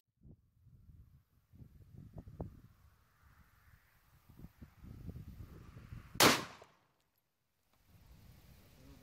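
One sharp, loud .308 rifle shot cracks at a distance against a Level IV steel ballistic plate, a single bright burst rising over outdoor wind and rustling before fading quickly.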